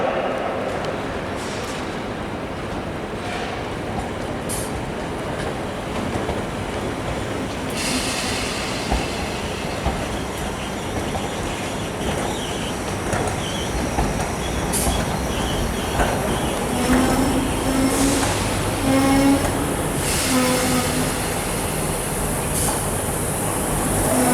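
An East Midlands Railway train bound for Norwich rumbles at a platform with a steady mechanical drone, faint wheel squeals and scattered clanks, heard from nearby in a reverberant station.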